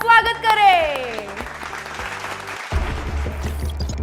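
Applause at the unveiling of a JCB 3DX EcoXPERT backhoe loader rises from a crowd while music and a presenter's voice carry over it, with a fresh loud burst of clapping near the end.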